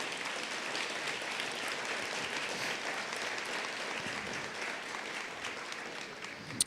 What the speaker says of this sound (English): please, a round of applause for our great sponsors